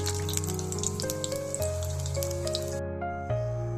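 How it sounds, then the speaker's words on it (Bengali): Mung dal pithe sizzle in hot oil with a steady, even hiss, joined by a few sharper pops and sustained tonal sounds in the background. "তো আমি বাকি পিঠেগুলো দিয়ে দিচ্ছি, একই রকম ভাবে ভাজা করে নেব।"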